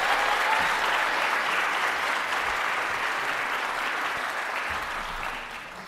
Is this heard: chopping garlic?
no